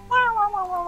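A cat meows from a house of cats in the online game Pokémon Revolution Online, one clear drawn-out cry that bends slightly downward, loud and close, alone without talk.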